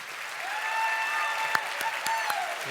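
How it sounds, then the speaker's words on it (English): An audience gives a round of applause for a production team, a steady wash of many hands clapping with a few sharp nearer claps and faint voices underneath. "So if we could give a round of applause to the team that puts this together."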